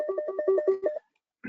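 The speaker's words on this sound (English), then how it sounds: "apologies for the ringing phone" A telephone rings in the background of an online webinar, a rapid warbling electronic trill repeating for about a second before cutting off, followed by a brief tail of sound, with no talking over it.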